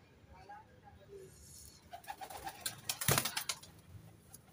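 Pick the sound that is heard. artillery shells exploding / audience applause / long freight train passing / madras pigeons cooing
madras pigeons cooing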